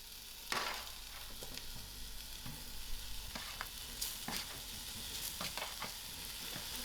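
Pumpkin and carrot are stirred into an oily braise, with a low steady sizzle broken by scraping and clattering stirring strokes.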